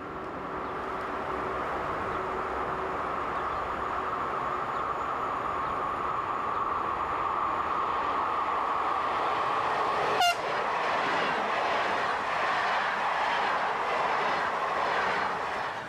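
A Brussels–Amsterdam passenger train hauled by a dual-voltage Class 11 electric locomotive rumbles steadily past at a distance, with a continuous rolling drone and a brief high horn-like tone partway through.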